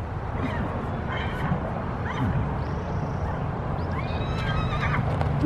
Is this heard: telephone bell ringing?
no